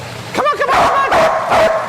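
A dog barks and yips several times in quick bursts, close and loud, while running on a slat mill treadmill, with some whimpering between barks.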